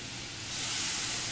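Chicken pieces sizzle in a hot pan, a steady broadband hiss that swells slightly louder as more meat is laid down, alone and close.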